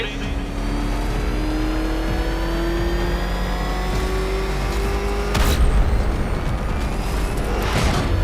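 In Batman: Arkham Knight, the Batmobile's engine roars steadily and climbs slowly in pitch, a loud, continuous drone with a heavy thump past the midpoint, while a voice talks over it.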